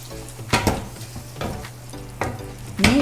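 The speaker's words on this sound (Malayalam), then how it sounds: "ഇത് എല്ലാം കൂടി നന്നായിട്ടൊന്ന് വഴണ്ട് വരണം" Spiced masala for a crab roast curry sizzles in a pan, broken by several bursts of stirring and scraping over the steady frying.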